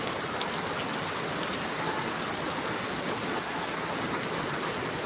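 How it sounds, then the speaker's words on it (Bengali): Heavy rain pouring down around a motorcycle parking area, a dense, constant roar of drops hitting surfaces, loud and unbroken throughout with no voices. "এসে জোরে জোরে বৃষ্টি নামছে এখন আটকা পড়ছি"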